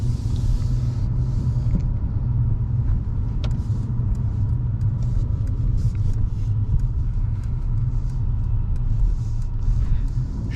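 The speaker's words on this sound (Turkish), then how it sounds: "Kasislere biraz bakalım. Araç nasıl absorbe edecek?" Steady, close interior rumble as a 2022 Mercedes C200 AMG with a 1.5-litre 204 hp engine rolls over speed bumps, with a few faint thumps and knocks from the suspension.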